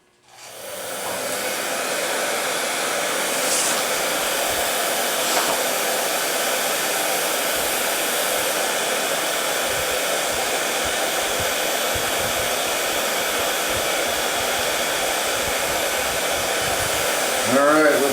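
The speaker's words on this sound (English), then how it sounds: "Meanwhile, I'll plug my heat gun in." A heat gun blows a steady, loud whooshing roar for the whole stretch, shrinking heat-shrink tubing over trailer light wiring, with no talk over it.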